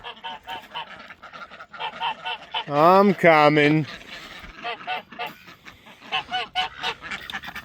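Geese on a homestead let out a loud burst of stacked, nasal honks midway through, standing out over scattered chatter and bird calls, with a person talking before and after.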